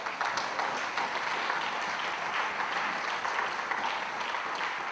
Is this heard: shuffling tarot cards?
no